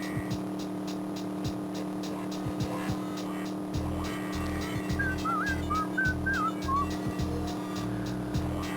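Handbrake turns in the Game Boy Advance driving game Driver 2 Advance, with chirpy, whistling tire squeals repeating over a steady buzzy engine drone, fairly quiet and with no voices.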